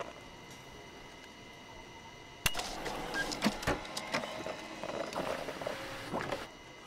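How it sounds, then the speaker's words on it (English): 3D printer from the video game Job Simulator whirring and clicking after a sharp start, with irregular mechanical ticks and knocks over several seconds and no talk. "It's a 3D printer."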